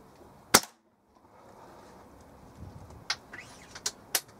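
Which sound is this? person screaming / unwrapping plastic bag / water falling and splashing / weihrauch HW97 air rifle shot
weihrauch HW97 air rifle shot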